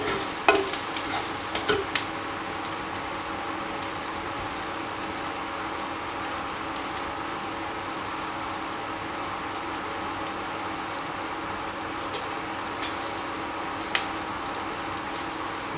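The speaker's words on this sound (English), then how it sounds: "Let the onions get into golden brown." Onions frying in a pan toward golden brown, with a steady, dense sizzle that holds throughout and a few sharper clinks near the start.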